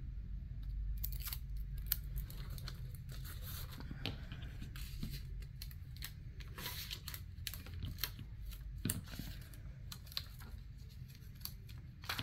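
Scissors snipping away excess DTF transfer film, a long run of small crisp cuts and rustling of the film in quick irregular rhythm, close and fairly quiet, with no voices.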